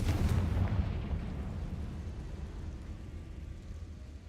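A Confringo blasting spell fired in Hogwarts Legacy goes off as a single heavy boom at the start, then fades into a low, rolling rumble that lingers to the end.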